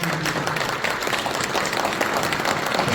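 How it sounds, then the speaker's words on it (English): An audience at a local candidates forum gives a sustained round of applause, many hands clapping in a steady, even wash throughout, moderately loud with no voices on top. "Let's have another round of applause for all of these candidates."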